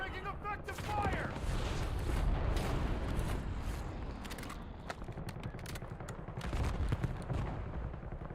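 Dense, continuous gunfire rumbles through a first-person shooter battle, with sharp bursts and booms layered under a busy game soundscape and occasional talk.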